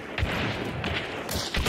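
Gunfire in a first-person shooter video game: several punchy shots land in quick bursts over a dense, continuous wash of game noise, loud and close throughout.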